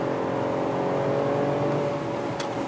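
Mercedes-AMG car engine heard from inside the cabin, a steady loud drone that holds evenly without clear revving peaks, with a brief click near the end.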